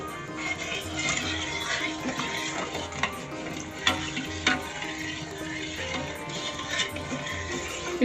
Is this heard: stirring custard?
yes